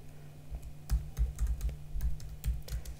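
Fingers typing a terminal command on a computer keyboard, a quick run of close, crisp key clicks and thuds in an uneven rhythm over a faint steady hum.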